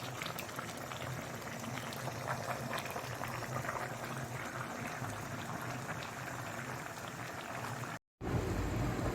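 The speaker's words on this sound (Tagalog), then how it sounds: "Pakuluan lang natin guys." Chicken curry with vegetables bubbles in a pot, a dense continuous simmering burble close by with no talking, cut off by a brief dropout near the end.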